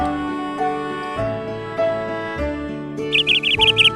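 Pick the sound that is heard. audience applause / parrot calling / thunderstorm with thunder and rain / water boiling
parrot calling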